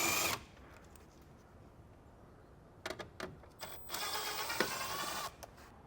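A power driver removes T15 Torx screws inside the wheel well of a 2024 Buick Envista, heard as short whirring bursts close by, separated by quiet gaps and light handling clicks.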